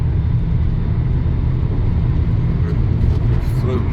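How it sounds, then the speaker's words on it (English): Steady, loud road rumble and tire drone from a Honda car on Maxpeedingrods T7 coilovers as it crosses a bridge, a continuous low hum heard from inside the cabin with no talk. "About to cross over another bridge."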